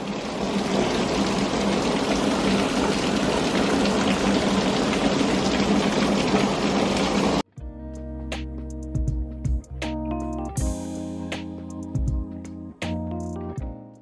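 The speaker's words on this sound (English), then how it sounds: "it's hailing. There's literally hail coming down." Hail pouring down outside onto a chair, a dense steady hiss of pelting ice for about seven seconds before cutting abruptly to unrelated quieter indoor sounds.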